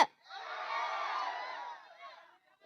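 A crowd cheers and shouts at a Kannada comedy show, with a sustained burst of voices and whoops. It swells for about two seconds, then fades.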